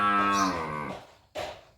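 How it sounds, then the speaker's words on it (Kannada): A loud, low drawn-out moo from a cow in a village cattle pen, followed by a short second call, close by with no talking. "ಹಸು ಆಗೈತಿ, ಹುಲ್ಲು ಹಾಕಂತೇಳಿ ಒದ್ರಾಕತೈತಿ ನೋಡಿ"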